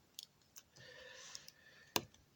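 A SOG PowerLock multi-tool folding closed gives a few sharp metallic clicks spread over two seconds, the loudest snap near the end, close up and alone.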